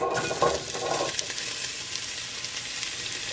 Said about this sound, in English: And then I'm gonna add my leeks,